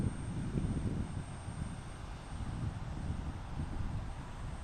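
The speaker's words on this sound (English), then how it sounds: "Next up, the old Beechcraft." An old Beechcraft propeller airplane at Portland International Airport gives a steady, fairly distant low engine rumble with some wind noise and no one talking.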